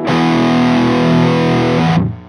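Gibson Les Paul Tribute 2018 electric guitar on its bridge pickup, played through heavy distortion: one loud sustained chord rings for about two seconds, then cuts off abruptly.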